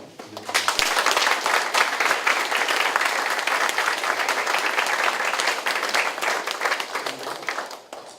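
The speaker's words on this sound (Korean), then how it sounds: "먼저 이 자리를 있게 하신 하나님께 영광의 박수를 한번 드리겠습니다." A church congregation at a Korean small-group leaders' retreat breaks into loud, sustained applause. The clapping swells quickly, holds full and even for several seconds, then tapers off at the end.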